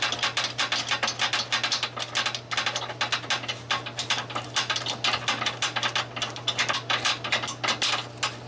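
Rapid ratchet clicks in dense bursts as bolts are tightened on a 2003 Honda Civic engine mount with a manual transmission, a steady low hum beneath the close, crisp ratcheting.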